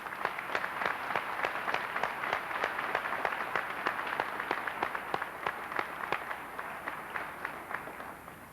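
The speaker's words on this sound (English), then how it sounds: "Let's give them a round of applause." A crowd applauds steadily for several seconds at a high school graduation ceremony, sharp claps merging into a continuous patter at moderate distance.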